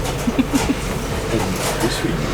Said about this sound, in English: The train is departing.